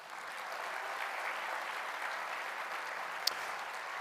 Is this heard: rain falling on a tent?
no